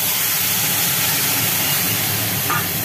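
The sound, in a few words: bottle gourd greens poured onto fried spices in hot pan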